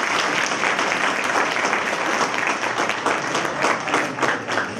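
Sustained audience applause fills a hall at a film premiere celebrating local customs in Mali Zvornik, with dense, steady clapping throughout and no clear break.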